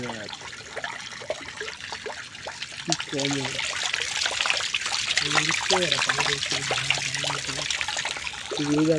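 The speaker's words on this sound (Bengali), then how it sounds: "এটা কিন্তু একটা ঝর্নার পানি যাচ্ছে" Steady water trickling and splashing from a small natural waterfall in a village, with someone talking over it throughout.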